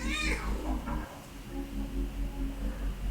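A cat lets out a loud, drawn-out meow up close, followed by quieter murmuring sounds over a low background hum.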